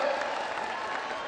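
Crowd applauding at a public political rally in Chhattisgarh addressed by Prime Minister Modi, a brief, continuous roar of many clapping hands, with some voices underneath.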